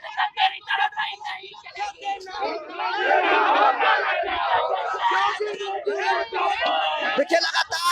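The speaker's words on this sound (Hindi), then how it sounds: "देखिए लगातार योगी और जोगी मुर्दाबाद के नारे लगा रहे हैं लोग।" A loud crowd of protesters in India shouts and chants slogans in ragged unison, the voices building into a continuous roar.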